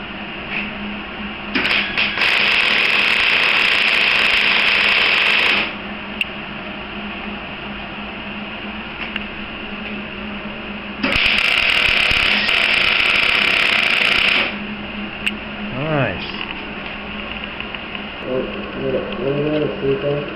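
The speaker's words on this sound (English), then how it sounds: "We'll tack weld the ends together, and then Carmen will run a bead down the middle." Tack welding the ends of two metal strips together for a cart build: two loud bursts of harsh, sizzling arc crackle, each several seconds long, separated by quieter shop background, with a voice speaking briefly near the end.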